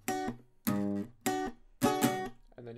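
Guitar picking a repeated pattern on the second and third strings for a song, four clear plucked bursts of ringing notes with short gaps, close and clean, no talking.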